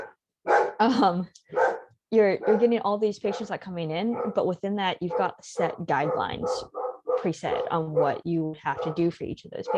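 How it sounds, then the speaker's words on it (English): A pet dog barks and yips in the background of a home video call while a person keeps talking steadily over it, the barks mixed into the speech. "Sorry, that's my dog."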